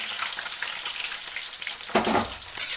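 Mustard seeds, curry leaves, dried red chillies and chopped onions fry in hot oil, giving a close, steady crackling sizzle that swells louder near the end, with no talking.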